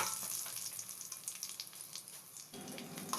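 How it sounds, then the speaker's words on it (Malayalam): Curry leaves and dried red chillies sizzle and crackle steadily in hot oil for a fish curry, close and continuous, with the frying briefly quieting near the end before picking up again. "ഇതിലേക്ക് കുറച്ച് കറിവേപ്പിലയും വറ്റൽമുളകും കൂടി ചേർത്ത് മൂപ്പിക്കാം"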